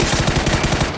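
An M4 rifle with a level-10 skin fires in PUBG: a loud, rapid automatic burst of about ten evenly spaced shots packed into one second.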